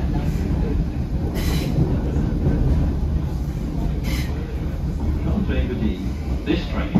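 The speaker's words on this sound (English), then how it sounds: "Train of 8100s." An Irish Rail Class 8100 electric multiple unit runs between Greystones and Dublin Connolly, heard from onboard as a loud, steady low rumble of wheels and traction with occasional clicks and rattles, while a voice speaks over it.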